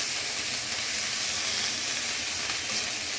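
Spice paste with turmeric and ginger garlic paste frying in hot oil, giving a loud, continuous hissing sizzle that stays even from start to end with no speech.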